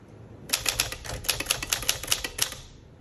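A 1953 Smith Corona Super manual typewriter types in a quick run of about a dozen sharp, close key strikes, each a crisp clack with a slight mechanical thud, alone without talk.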